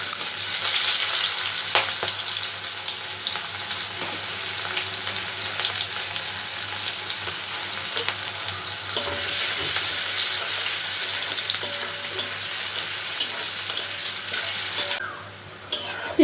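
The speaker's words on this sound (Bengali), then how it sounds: "পেঁয়াজটা ভাজা ভাজা হয়ে গেছে।" Chopped onions with bay leaves and whole garam masala frying in oil for a prawn and pointed gourd malaikari, a steady loud sizzle with occasional stirring scrapes that carries on throughout and eases off briefly near the end.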